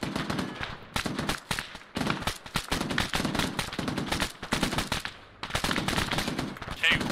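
Rapid bursts of automatic gunfire from a military video game rattle continuously, loud and close, with short gaps between volleys and faint voices underneath.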